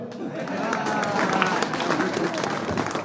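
An audience at a Hindi comedy poetry gathering claps steadily, a continuous wash of applause mixed with crowd murmur throughout.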